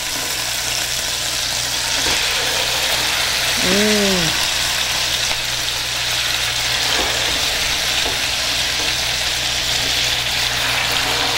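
Chops searing in butter and olive oil in a stainless pan, a steady, broad sizzle and hiss running throughout, with a short tonal sweep near the middle.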